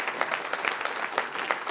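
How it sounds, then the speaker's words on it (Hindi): An audience applauds after a drama performance at NCZCC, giving brisk, dense clapping with sharp individual claps that stand out from a moderately sized crowd. "एक बार फिर से जोरदार तालियां बजाते हैं"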